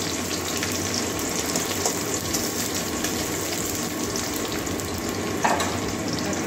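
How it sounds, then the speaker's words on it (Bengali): Chopped onion fries in a pan for a paneer and soybean curry, making a steady, close, bubbling sizzle that continues evenly throughout, with one brief sharp tick near the end and no talking. "পেঁয়াজটা বাদামি কালার পর্যন্ত ভেজে নেব।"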